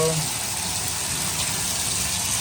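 Water runs steadily from a tap just after an Aquasure Harmony Series 48,000-grain water softener is installed, a constant close hiss and gush of flowing water throughout.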